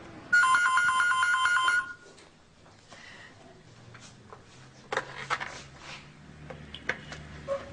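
An electronic telephone rings with a warbling, repeated tone for about a second and a half at a gendarmerie unit, loud and clear, followed by quiet room noise and scattered handling clicks.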